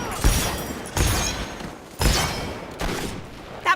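Gunfire in the video game Fable 3: four loud, sharp shots land at uneven intervals, each leaving a short rumbling tail, with no voices.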